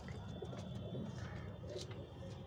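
Pigeons coo softly and repeatedly at close range amid a dense background murmur of other birds.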